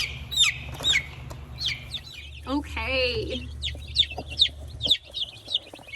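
A hen in a large brooder clucks and chirps in repeated bright, close calls, with a longer squawk in the middle, over a low steady hum; a person says a brief word.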